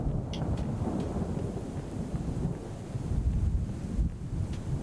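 Low rumbling thunder rolls continuously through a storm in the video game Deathbound, with steady wind and rain-like noise filling the background and no talking.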